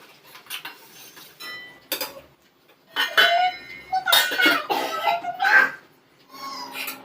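Freshly ground masala paste stirred into a pan with lightly fried chili powder, heard as bursts of metal-on-metal scraping and clinking from a spoon, with pauses between strokes and faint voices in the background.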